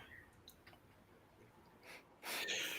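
A single sharp sneeze bursts out near the end, after a quiet stretch with a few faint breaths and small noises.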